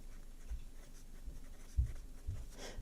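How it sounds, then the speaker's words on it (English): A fountain pen scratches across paper in a few short, faint strokes, soft and close in an otherwise quiet room. "because I have the pen in my hand, I'm just gonna write it first off."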